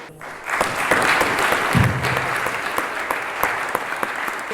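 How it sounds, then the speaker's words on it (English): Audience applause at an Eagle Scout awards ceremony, a full round of clapping rising quickly and holding steady for several seconds, with a few sharper individual claps standing out. "I think you alone deserve a big round of applause"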